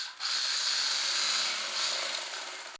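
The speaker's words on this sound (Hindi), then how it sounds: "और हम इनको सिलाई लगा लेंगे।" An electric sewing machine stitches tucks on a long layered kurti, a steady high-pitched whirring run that starts abruptly and holds even and close for a few seconds, fading slightly at the end, with no talking.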